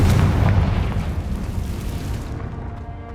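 A Confringo spell detonates in Hogwarts Legacy, a loud, close fiery blast with a heavy low boom that fades out over about three seconds, no voices.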